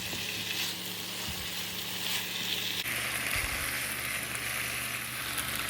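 Pepper chicken with a little sweet chilli sauce sizzles steadily in a pan as it is mixed, a dense continuous frying hiss broken by a few soft scrapes of stirring, close and with no talk.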